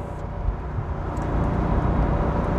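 A BMW Z8's deep, rumbling 4.9-litre V8 engine builds in loudness as the car accelerates, a low steady roar close by.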